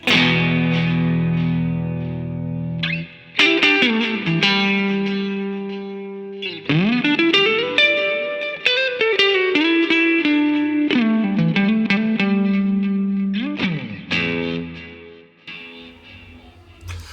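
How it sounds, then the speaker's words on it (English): Electric guitar plays sustained chords and ringing notes in a lead tone through a 2-Rock Classic Reverb amp, washed in echoing delay and lush reverb that trail off between phrases, with no voices. "Now, you'll hear the delay and the reverb."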